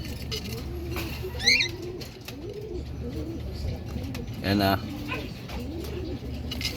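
Racing pigeons coo repeatedly in soft, rolling phrases at a club arrival in Atimonan, Quezon, with a few sharper bird calls, while people talk nearby over a low background hum.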